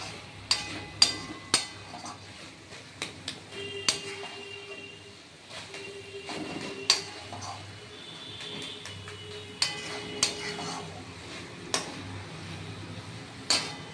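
A spoon scraping and clinking against a pot while stirring banana-flower muri, then a lid set down over it, with scattered sharp metallic taps and clanks through a quiet kitchen.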